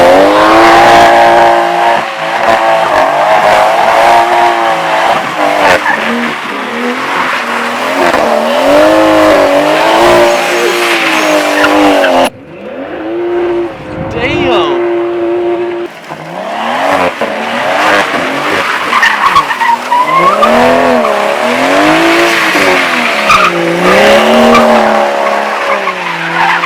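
BMW with its all-wheel drive disabled, running rear-wheel drive only and spinning, with loud sustained tire squeal and revving engine wavering in pitch, a brief dip partway through before the screeching resumes, close and continuous.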